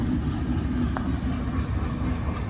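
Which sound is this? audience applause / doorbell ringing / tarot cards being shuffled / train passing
train passing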